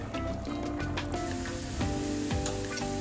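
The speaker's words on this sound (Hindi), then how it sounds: "अब इस वक्त हम तड़का तैयार कर लेते हैं।" Oil sizzles and crackles steadily as spices hit a hot pan for a tarka for chana dal, with a brief louder hiss partway through.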